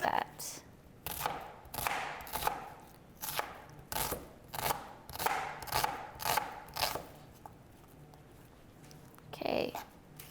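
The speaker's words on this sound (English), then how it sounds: "And I'll just go ahead and chop that up." A knife chops red onion on a cutting board with about a dozen crisp, evenly spaced close knocks. A pause follows, then one last chop, with speech heard faintly at times.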